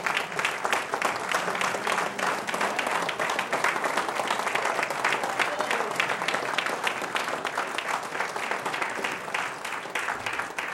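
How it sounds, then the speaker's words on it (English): A room full of dinner guests at an honorary degree dinner applauds, producing a dense, sustained burst of clapping that stays loud and even for about ten seconds. "I can give you a round of applause."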